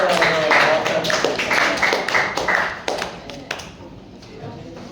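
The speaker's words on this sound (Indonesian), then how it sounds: "oke, tepuk tangan dulu." A small group of students claps briefly after a class group presentation, a few close, uneven sharp claps that quickly thin out to scattered taps and fade into quiet.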